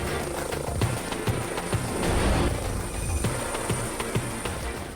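Air ambulance helicopter taxiing on grass toward an east coast takeoff point, a steady dense rotor and turbine roar with rhythmic blade thumps, loud and continuous, with no talk.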